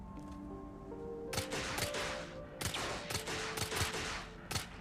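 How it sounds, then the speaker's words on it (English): A new gun in the Brigador Killers video game fires in several sharp, loud bursts, short volleys and single shots spaced unevenly over a steady droning background hum. "I want to know what this new gun's like."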